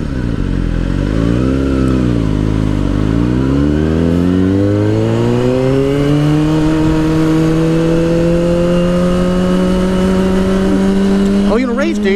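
A motorcycle engine revs and accelerates steadily with a long rising drone that levels into a sustained high pitch, loud and close, during a street race encounter with police, with a brief burst of voices near the end.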